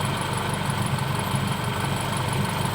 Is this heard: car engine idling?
yes